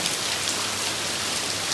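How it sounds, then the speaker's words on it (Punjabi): Heavy rain pours down in a dense, steady hiss, loud and close, with no voices. "ਬਹੁਤ ਮੀਂਹ ਡਿੱਗ ਰਿਹਾ"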